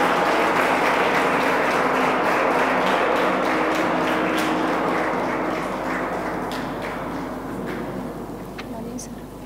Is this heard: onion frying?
no